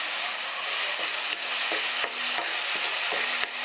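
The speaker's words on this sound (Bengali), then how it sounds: "সমস্ত মশলা আর টমেটো একটু ফ্রাই করে নেব।" Spices and tomatoes fry in a pan over a medium gas flame, a steady close sizzle with a few brief stirring scrapes and clicks and no talk.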